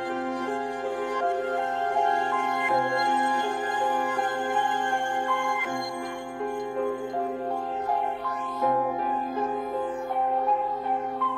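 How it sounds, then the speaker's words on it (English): A synth melody for a fast, aggressive beat made in FL Studio 21 plays alone, a bright, layered sustained lead with repeating phrases at a steady loud level and no drums. "here's how the whole melody sounds before we go to the drums."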